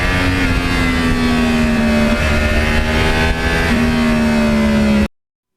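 A 2009 Yamaha R1 crossplane sportbike engine and exhaust hums steadily at cruising speed, loud and close with a droning tone that shifts slightly in pitch, then cuts off abruptly.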